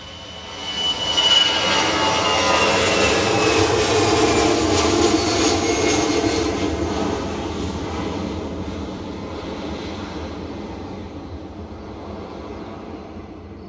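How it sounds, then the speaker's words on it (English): A passenger jet departs Bristol Airport with a loud, close, broadband engine roar. The roar swells within the first second or two, holds strongly, then slowly fades into the distance. "Got another departure now, let's bring that to you."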